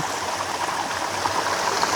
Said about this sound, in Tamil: அங்கே பாருங்க தண்ணி இருந்து வரையுது இந்த தண்ணி அப்படியே இங்கே வரையுது